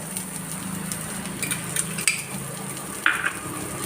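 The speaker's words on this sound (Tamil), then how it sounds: "இந்த முட்டையை வந்து மெதுவாக ஊற்றுங்க உடஞ்சிடாம அழகாக" Egg poured into a hot pan for bread egg toast, giving a steady soft sizzle with a few light clinks of utensil against the pan and a sharper tap near the end.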